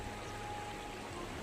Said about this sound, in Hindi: चलो, बहुत बड़ी नदी है।